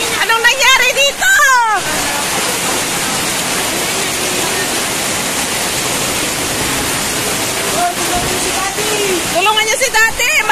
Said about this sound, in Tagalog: laging basta malakas ang ulan, ganito laging rumaragas ang tubig